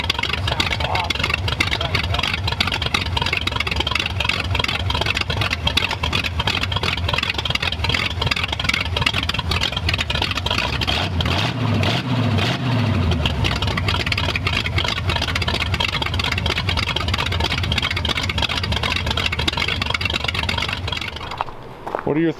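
A 1932 Ford Tudor engine runs loudly and continuously up close, a rough, throbbing rumble that holds steady for a long stretch before cutting off abruptly at the end.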